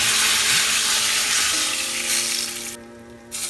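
Pomfret fish frying in mustard oil gives a steady, close sizzle and crackle that holds for a few seconds, then drops out briefly near the end before returning.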